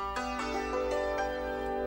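A hammered dulcimer struck with leather-covered hammers, several soft-edged notes ringing out and sustaining into one another over about two seconds, moderately quiet and close, with no voices.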